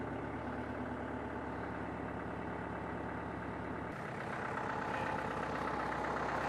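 Tractor engine idling close by with a steady low rhythmic chug, the sound shifting slightly in tone partway through as the engine note changes, no talking over it.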